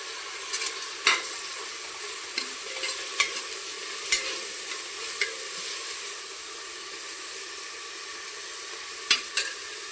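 Masoor dal being stirred with finely chopped fresh coriander in a pan, a steady sizzle under intermittent scraping strokes of a spoon, moderately loud and close, with no talking.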